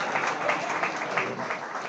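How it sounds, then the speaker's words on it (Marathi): An audience at a Raigad district Kumbhar community gathering applauds an award honoree, Dr. Maruti Maharaj Kolhatkar, with dense, continuous clapping that holds steady and fairly loud for the whole stretch, with faint voices underneath. "जोरदार टाळ्या झाल्या पाहिजे"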